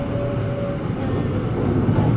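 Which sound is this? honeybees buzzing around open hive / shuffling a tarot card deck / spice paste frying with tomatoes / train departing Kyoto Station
train departing Kyoto Station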